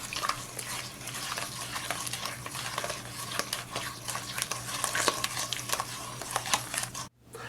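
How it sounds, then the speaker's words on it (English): Pumpkin crumb cake batter being mixed by hand in a bowl, wet and dry ingredients combined, giving a steady close-up scraping and stirring texture that runs throughout with faint background hum, stopping abruptly just before the end. "just mix these all together really well"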